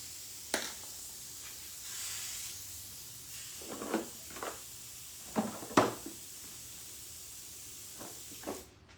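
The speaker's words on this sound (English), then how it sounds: "Spray a little bit down there on my rag in the floor." Soft, brief hissing sprays from an airbrush come in short bursts onto a rag on the floor against quiet background hiss, with a few faint clunks between them.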